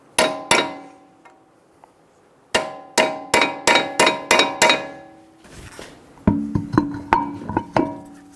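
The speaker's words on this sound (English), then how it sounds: "Using a hammer and a punch, stake the axle nut." Sharp metallic hammer blows on a punch staking a 2007-2011 Toyota Camry front axle nut ring out in bursts: two strikes, then a quick run of about six, followed by another cluster of clangs. Close, loud, no talking.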